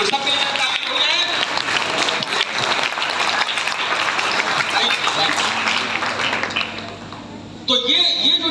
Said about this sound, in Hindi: वेरी गुड, सबके लिए तालियां हो जाए।